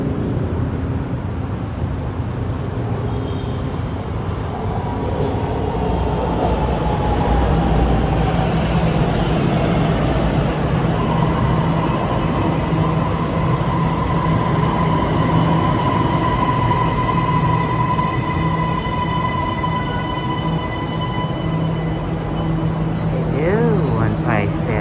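A Kajang Line MRT metro train runs steadily through the whole stretch, with a continuous rumble of wheels on rail, rising and falling whines from the motors and a thin squeal near the end.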